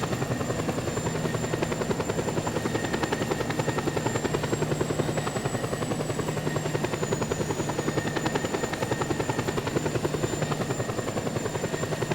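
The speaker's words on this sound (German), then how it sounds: "Da haben wir Hubschrauber." A helicopter in Just Cause 2 chops steadily with a droning engine hum, constant and moderately loud, with no talking.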